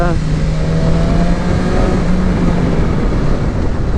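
A motorcycle lapping a race circuit on a track day, its engine a loud, close, continuous roar with a high whining tone at the start, wind rush throughout.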